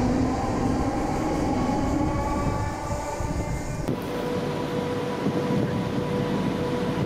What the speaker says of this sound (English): Every 10 minutes each way here, there's trains. Very busy station.